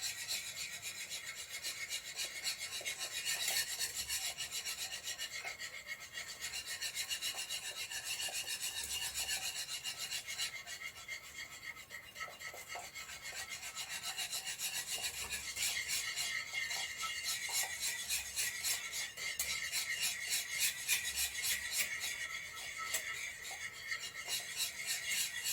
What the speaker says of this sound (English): Now I'm going to slowly pour the eggs back into the milk mixture while I'm stirring.